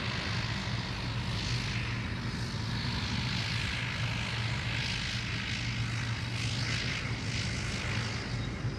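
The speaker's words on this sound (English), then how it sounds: "The endless stream of aircraft taxiing southbound on Charlie continues" Airliners taxiing southbound on a taxiway at Sydney Airport, a steady loud drone of jet and engine noise with a low hum throughout, continuous and fairly close.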